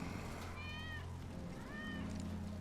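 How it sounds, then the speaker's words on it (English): A cat in Final Fantasy VII Remake meows twice, each call drawn out and rising then falling, over a steady low hum of game ambience. "That's Wedge's cat."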